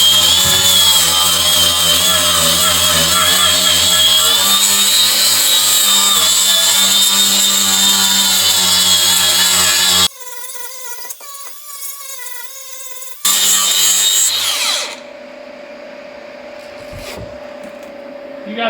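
A power tool strips paint and rust off the metal of a 1987 Pontiac Trans Am with a loud, close, high whine. It cuts out partway through, then a quieter tonal hum and a softer grinding pass follow.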